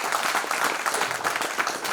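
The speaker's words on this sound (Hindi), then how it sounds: "एक बार जोरदार तालियां।" Loud, dense applause from a large audience at an astrology convention, the Astro Maha Sammelan 2021, filling the hall steadily for two seconds with no break in the clapping.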